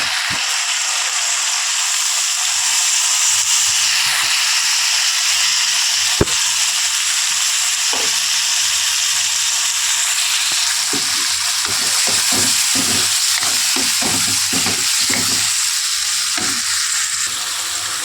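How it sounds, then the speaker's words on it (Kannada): Tomatoes sizzle and fry steadily in a hot pan for a Muslim-style baghara khana with brinjal curry, with a constant loud hiss and scattered clicks and scrapes of stirring toward the end. "ಮತ್ತು ಇದು ಟೊಮೆಟೊ ಹಾಕ್ಕೊತಾ ಇದ್ದೀನಿ."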